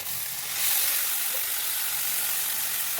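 Spice paste fries in hot oil for a Bengali pabda fish curry, a steady bright sizzle that swells slightly early on and then holds, close and constant with no voices.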